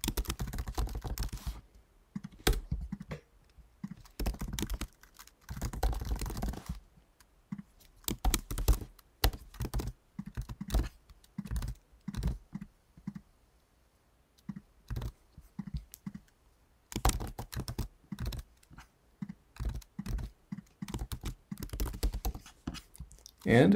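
Keys clatter in quick, irregular bursts as someone types into an online course sign-up form on a computer keyboard, with short pauses between runs of strokes, close and fairly clear.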